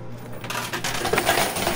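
Coins clattering and jingling as they drop in a coin pusher video game, a dense metallic rattle building up after a brief quiet start, close and continuous, no voices.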